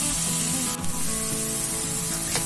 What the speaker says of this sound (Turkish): Tencereye biraz yağ aldım. Şimdi soğan ekliyorum.